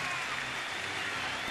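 Thirty-five thousand fans fill a Washington ballpark during a Mets-Nationals game with a sustained, loud roar of cheering and clapping, an even wall of crowd noise with no break.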